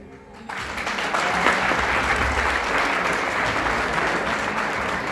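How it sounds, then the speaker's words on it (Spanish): Wedding guests break into applause for the newlyweds, a sudden burst of dense clapping from a crowd that starts after a brief pause and holds loud and steady throughout. "que se escuche fuerte, fuerte esas palmas para los recién casados"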